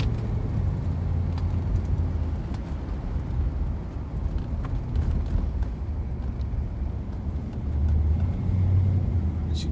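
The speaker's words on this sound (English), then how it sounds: "here we go for a drive in a 1956 Continental" Interior of a 1956 Continental Mark II cruising on a freeway: a steady, loud low rumble of engine and road noise with constant broadband wind hiss and no talk.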